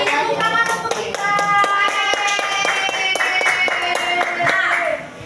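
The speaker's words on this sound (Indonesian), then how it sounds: "Tepuk tangan untuk kita" Pupils in a primary school classroom clap together in a quick rhythmic pattern, close and fairly loud, with music or voices blending underneath throughout.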